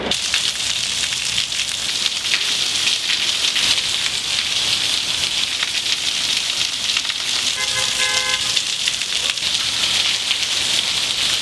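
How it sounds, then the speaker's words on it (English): Steady rain in Florida falling on a surface, a dense continuous hiss of drops at constant loudness throughout, with a faint brief tone near the end and no talk. "Rain."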